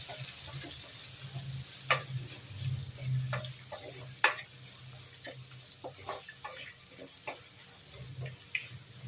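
Onions and green chillies sautéing in a pan: a steady soft sizzle runs throughout, broken by scattered clicks and scrapes of stirring, close and without speech.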